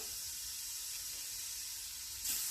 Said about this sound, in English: Let's go ahead and put this in, see if it's hot enough. Oh yeah, got a sear going.